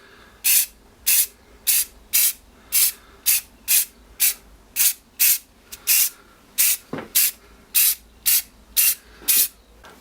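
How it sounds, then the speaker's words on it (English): Short bursts of spray paint hiss in a steady rhythm, about fifteen quick puffs from an aerosol can sprayed from a distance onto a steampunk spider model, close up with quiet gaps between. "I'll spray from quite a distance because I don't want to get too much paint on in one go."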